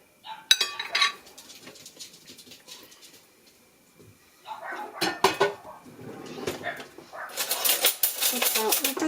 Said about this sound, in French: On prend une petite cuillère à soupe et on met le riz dans le moule.